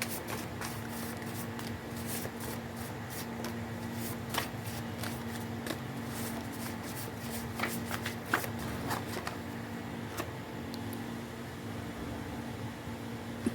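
Tarot cards are shuffled over and over in a steady, rapid riffle at close range, under a faint constant hiss, with no one speaking.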